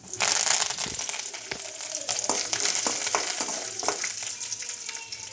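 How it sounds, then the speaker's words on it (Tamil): Chana dal and curry leaves fry in hot oil for an upma dinner, a loud close sizzle with crackling pops and the scrape of stirring throughout. "கடலை பருப்பு வதக்கி விடணும். அப்புறம் கருவேப்பிலை"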